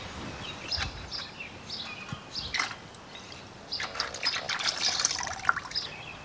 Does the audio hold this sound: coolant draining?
yes